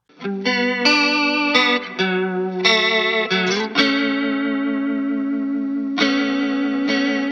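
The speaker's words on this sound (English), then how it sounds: "very deep pitch modulation effect, dirtied up a little bit with a Greer tomahawk" Electric guitar notes and chords ring out through a TC Electronic SCF chorus pedal with very deep pitch modulation, lightly dirtied by a Greer Tomahawk overdrive, the pitch swaying noticeably as they sustain.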